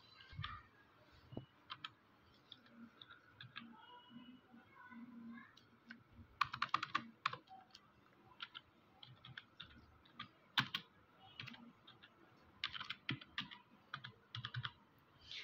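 Data being typed on a computer keyboard into an Excel spreadsheet: irregular bursts of soft key clicks, close and quiet, with pauses in between and occasional faint speech.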